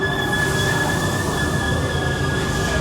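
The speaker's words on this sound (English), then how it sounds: "Trains come in, and it's a double-decker." A double-decker train rolling in with a loud rumble and sustained high metallic wheel squeal, close by and continuous.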